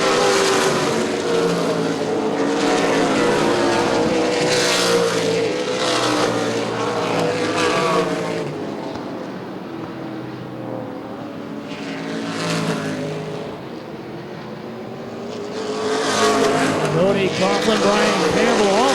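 ARCA/CRA Super Series stock cars racing side by side down the back straightaway of an oval at Baer Field Motorsports Park, loud engines roaring past in swelling and fading waves with a race announcer talking over them.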